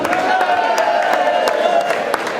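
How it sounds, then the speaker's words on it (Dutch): Audience at a carnival event applauding and cheering, a steady loud wash of clapping with scattered whoops from the crowd. "dus ik wil graag daarvoor een applaus als bestuur."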